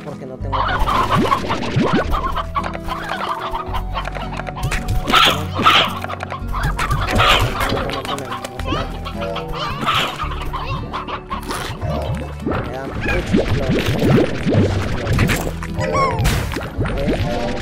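Chickens cluck and squawk repeatedly around a farmyard while people talk over them, with a dog barking now and then in the background.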